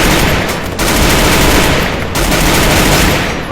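Gunfire in the Free Fire video game, loud and sustained sustained automatic fire filling the clip with only two brief dips.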